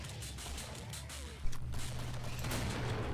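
Rapid pistol gunfire in the Killing Floor video game, a dense run of sharp shots under steady game noise, with one louder burst partway through.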